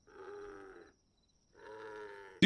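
A ram in the video game Hytale snores in two drawn-out, raspy, tonal breaths separated by a short silence, moderately quiet and close, with a sharp noise at the very end.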